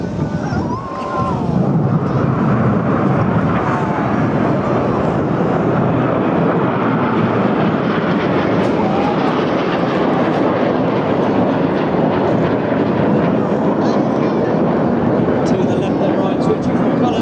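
Red Arrows display jets roar continuously at a seaside air show at Clacton-on-Sea, Essex, with a broad, loud engine rush and wind buffeting the microphone throughout.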